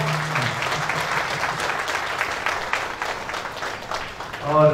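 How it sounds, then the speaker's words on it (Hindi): A crowd at a Shri Vishwakarma puja gathering in Bhayandar East claps loudly and steadily, and a voice begins speaking over the applause near the end. "आप तालियां बजा करके इनको ये आशीर्वाद दीजिए"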